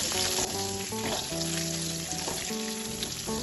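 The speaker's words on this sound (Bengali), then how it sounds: "আলুটা ভালো করে ভেজে নেব" Potato pieces seasoned with salt and turmeric frying in hot oil, a dense steady crackling sizzle heard up close, with a faint tonal hum underneath and no talk.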